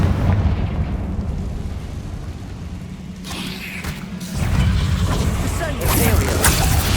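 Rumbling blasts from the Confringo fire spell in Hogwarts Legacy roll on loudly and continuously, swelling again near the end, with a voice speaking over them.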